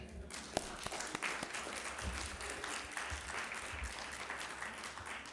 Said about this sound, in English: So round of applause for winning, right?